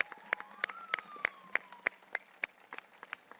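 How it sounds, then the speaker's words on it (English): Applause at an outdoor Labor Day healthcare justice rally at Kaiser, heard as a thin run of evenly spaced, sharp claps, fairly faint, with a steady tone running underneath. "Let's give ourselves a round of applause."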